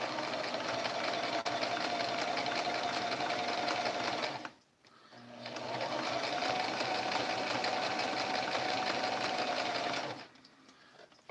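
A sewing machine stitches appliqué quilt blocks with fused backing in two steady bursts of fast, even whirring, close and continuous, separated by a brief pause and followed by a quieter motor hum.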